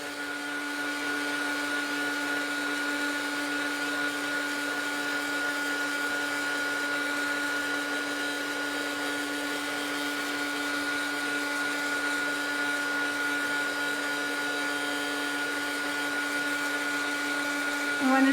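A heat tool blows in a continuous loud whirring hiss with a steady whine as it dries modeling paste, holding even throughout.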